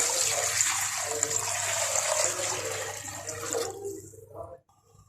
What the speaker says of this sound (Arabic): هسه حنضيف المي عليها.